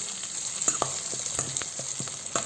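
Onion masala frying in a pan before tomatoes go in for a drumstick tomato curry, giving a steady hissing sizzle with irregular spoon scrapes and taps against the pan.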